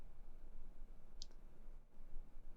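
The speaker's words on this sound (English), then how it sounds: "I'm going to click Continue." A single sharp mouse click near the middle, brief and close against a quiet room hiss, made while pressing a Continue button during a GitHub sign-in step in a web browser.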